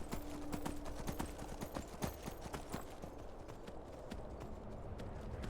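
Horse hooves clip-clop in quick, steady rhythm during a ride in the video game Skyrim, clear and continuous with a faint low game ambience beneath.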